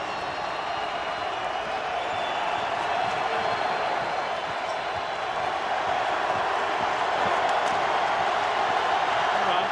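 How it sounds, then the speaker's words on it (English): A large football stadium crowd roars during a fourth-and-goal play in a Packers at Redskins NFL game, a steady broad wall of cheering and noise sustained throughout without letup. "This crowd cranks it up on fourth and goal."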